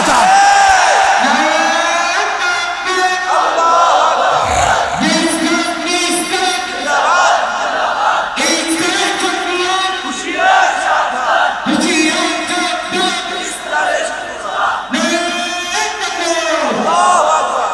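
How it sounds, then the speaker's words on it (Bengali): A large religious gathering at a Bangla waz mahfil chants 'Naraye Takbir, Allahu Akbar' in loud call-and-response waves, a repeating rhythmic roar of many voices in the open air. "আপনারা তো নারায়ে তাকবীর আল্লাহু আকবার বলতে বলতে কাহিল হয়ে গেছেন"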